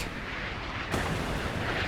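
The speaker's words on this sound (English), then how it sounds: "We've had a secondary explosion aboard." A secondary explosion erupts aboard a Soviet Krivak-class warship in a naval combat game, a muffled blast surging out of dense, continuous battle rumble about midway through and leaving the roar slightly louder afterward.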